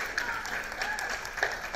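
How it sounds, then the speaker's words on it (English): An audience at a stage conference claps in a steady, moderate patter of applause for a brief moment, with a slight crowd murmur beneath. "Let's get the claps going for Ana."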